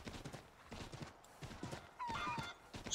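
Horse hooves clip-clop in a steady rhythmic gait in the Assassin's Creed 3 video game, fairly close and moderately loud, with a brief whinny-like tone near the end.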